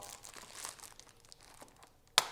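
Plastic packaging for a portable light tent photo studio is cut open with scissors, giving faint crinkling and rustling, soft snips, and a sharp crisp crackle near the end.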